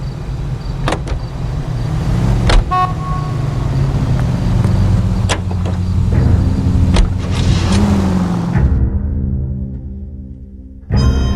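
A car in the video game L.A. Noire drives along with a steady engine drone, a few sharp clicks and knocks, and the sound cutting out briefly near the end.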